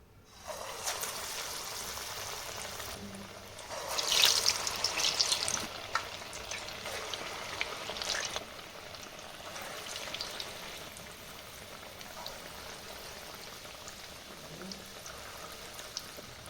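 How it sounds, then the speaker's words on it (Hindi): Vada batter dropped into hot oil for deep frying, giving a steady, close sizzle with a louder burst of crackling partway through that then settles back to a continuous bubbling fry. "जल्दी से इसको डीप फ्राई कर लेते हैं।"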